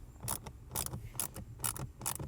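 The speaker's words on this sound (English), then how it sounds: "Now I'm gonna remove this bolt at the bottom." Ratcheting clicks from a wrench loosening a 7 mm bolt at the bottom of a Honda Ridgeline blend door actuator, several short close bursts in an uneven rhythm with no talk.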